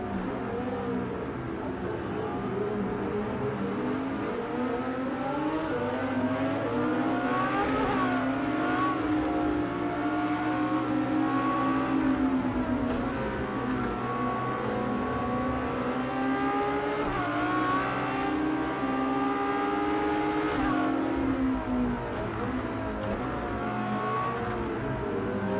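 LaFerrari hypercar racing around the Nürburgring in Project CARS 2, its engine loud and continuous, revs climbing and dropping through gear changes for the whole stretch with no talking.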